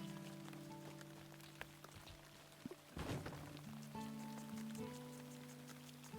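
Rain falling in the farming video game Luma Island, a soft steady patter of drops with a background music tone and occasional light thunks, no talking.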